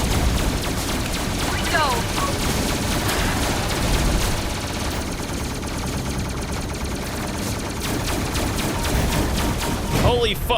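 Rapid bursts of rockets fire from an aircraft in a video game, a dense, loud barrage of blasts and booms running nearly continuously with excited voices talking over it.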